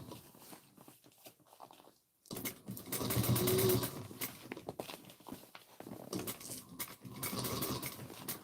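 A sewing machine stitches the Erica Bolwer bag, its motor whirring in bursts with short pauses between runs, close up and fairly loud.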